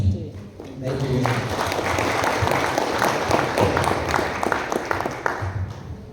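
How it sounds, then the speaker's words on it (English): An audience applauds a business forum panel, with broad clapping running under speech at the start and voices continuing over the applause throughout. "Can we have another round of applause for our panel?"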